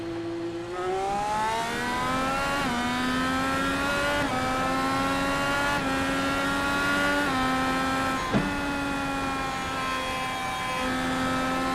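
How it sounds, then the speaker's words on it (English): Race cars circle a New Hampshire track in a racing game, a steady loud multi-engine drone with rising and falling pitch as cars pass, one brief sharp whoosh midway, no voices. "I see there Gary Corley just now coming back out onto the track from pit road"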